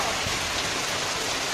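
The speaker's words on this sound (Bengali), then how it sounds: "কত বৃষ্টি হচ্ছে দেখছো" Steady rain pours down outdoors, a dense continuous hiss of drops on surfaces with no voices, holding even and moderately loud throughout.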